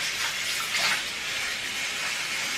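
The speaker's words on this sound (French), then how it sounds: "je vais mouiller toute ma tête sauf les pointes" Hot tap water runs steadily while wetting hair for a hair-care routine, a continuous close hiss and splash with slight swells, no talking.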